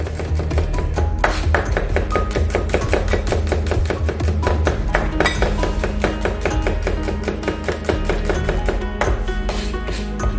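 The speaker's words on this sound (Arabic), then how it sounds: "نقطعو الثومة بحال هاد الطريقة صغيرة" Garlic cloves chopped small with a knife on a cutting board, rapid rhythmic taps continuing without pause, close and crisp.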